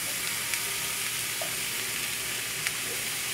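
A rack of lamb fries with onions and garlic in a pan, giving a continuous, even sizzle with a few faint pops, close and unbroken throughout.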